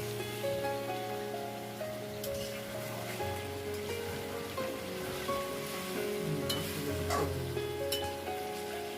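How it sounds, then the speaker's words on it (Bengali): Fried onions (beresta) sizzle and crackle in hot oil while being lifted out to drain, a steady rain-like hiss with scattered pops and clinks, and no talk over it. "তেলটা ভালো করে ঝরা দিয়ে আমি বেরেস্তাটা নামিয়ে নিচ্ছি"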